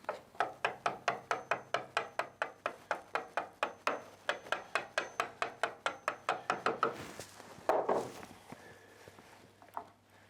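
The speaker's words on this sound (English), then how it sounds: "I can clean that up with a chisel" Sharp wooden taps from a chisel paring to a marked line on a pedal car door part, coming in a steady rhythm of about thirty close strikes, then a louder scrape and a few scattered knocks.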